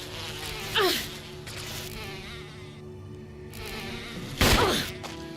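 Flies buzz around the player in the horror game Resident Evil (2002), with two loud passes swooping close by over a steady background drone.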